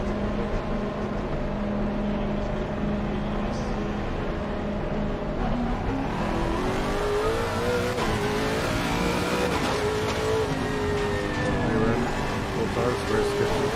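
A race car engine in Assetto Corsa Competizione drones steadily through a lap, its pitch climbing and falling with shifts and revs under continuous conversation between players.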